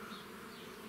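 Buckfast honey bees buzz in a steady, dense drone while being shaken from frames into a six-frame hive during a colony transfer, a faint, continuous hum with no voices.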